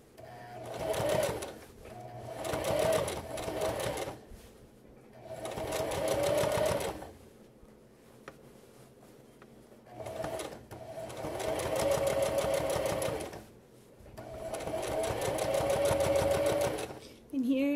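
A sewing machine runs in several separate bursts, stopping briefly between them while stitching and backstitching a garment seam, with a person talking over the motor throughout.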